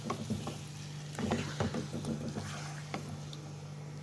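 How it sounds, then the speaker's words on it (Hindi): Salted chicken frying in hot oil over raised heat, with a faint crackle and sputter, a steady low hum and scattered light clinks of stirring throughout. "इसको मैं कर लूँगी गोल्डन फ्राई"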